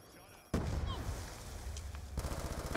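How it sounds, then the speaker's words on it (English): Gunfire in the video game Black Ops 2, a sudden loud burst of rapid shots after a quiet moment, continuing as crackling fire and bangs with a voice faintly underneath. "Everybody just like, stop shooting."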